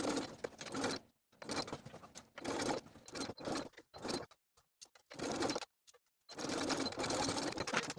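A sewing machine top-stitching the cuffs of a dress sleeve, running in several short bursts of rapid whirring separated by brief pauses and silence.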